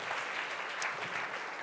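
A church congregation claps together in steady, sustained applause during a worship service, moderately distant and filling the whole moment without voices.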